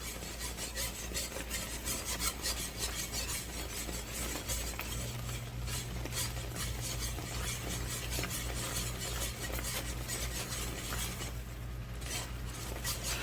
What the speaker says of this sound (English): I'm stirring, stirring, stirring.